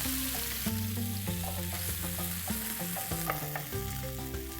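Grilled paneer cubes drop into a hot dhaba-style masala gravy and sizzle steadily, with loud continuous frying crackle and stirring scrapes close by.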